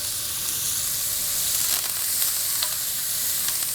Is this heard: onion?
yes